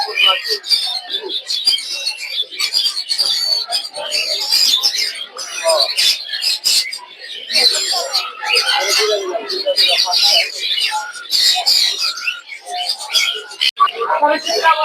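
A chorus of caged birds at a crowded bird market in Mirpur 1 keeps up constant overlapping chirps and squawks, near and loud, while someone speaks over the din.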